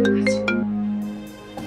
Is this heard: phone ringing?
yes